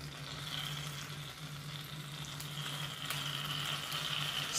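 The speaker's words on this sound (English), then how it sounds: "Still sizzling." A baked apple fresh from the oven sizzles with a steady, soft crackling hiss that holds alone and close with no voices.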